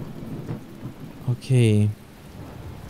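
Steady, soft rain in the video game The Talos Principle washes in the background, while a person briefly speaks over it.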